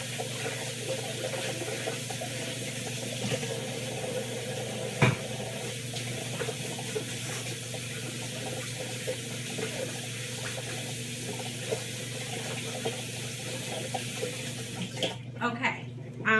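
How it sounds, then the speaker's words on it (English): Kitchen tap running steadily into a sink while hands are washed, a constant close splashing hiss that stops abruptly near the end. "let me wash my hands and get this in the oven."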